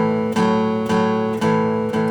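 Guitar chords strummed in an even, straight eighth-note rhythm, each stroke ringing into the next, played solo and up close.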